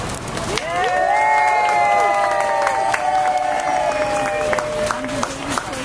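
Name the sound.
rally crowd cheering and applauding the mayor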